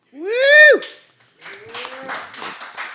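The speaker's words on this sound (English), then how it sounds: "As you can tell by the smattering of applause that you just heard, we do this show in front of a live audience" A small live studio audience cheers with a high whooping voice, then breaks into a scattered, modest patter of clapping that carries on steadily to the end.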